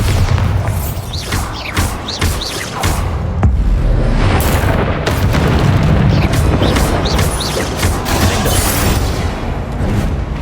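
Bombarda spell blasts in Hogwarts Legacy gameplay, a dense run of loud booming explosions and bursts landing in quick succession over a continuous roar of combat effects.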